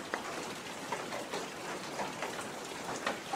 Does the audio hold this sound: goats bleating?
no